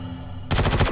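Automatic gunfire in the video game Star Citizen, a sudden close burst of rapid shots starting halfway through after a quiet hum.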